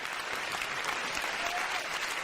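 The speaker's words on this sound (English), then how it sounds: "I'm going to play this applause thing" Applause sound effect played from a button: dense, even clapping from a crowd, loud and continuous for a couple of seconds.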